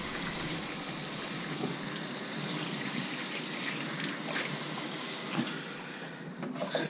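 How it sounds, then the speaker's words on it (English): Tap water runs steadily into a sink while hands are washed before handling pot roast meat, a continuous close splashing hiss that cuts off near the end, leaving faint dribbles and small knocks. "just wash our hands"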